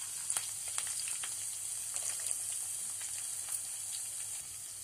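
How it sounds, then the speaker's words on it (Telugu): Peanuts and green chillies frying in a pan, a quiet, even hiss of oil with light crackles and occasional soft pops, heard close and alone. "ఈ పచ్చిమిర్చి పల్లీలు చక్కగా వేగాలండి."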